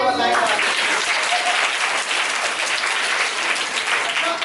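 Children clap before a play begins: dense, steady applause from a group fills the whole stretch, with a few voices faintly audible underneath.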